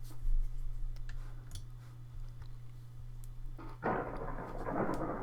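A thunder sound effect plays in the Amnesia game editor, tied to a flickering light: a quiet hum and scattered ticks, then a sudden loud, broad rumble near the end that keeps rolling on.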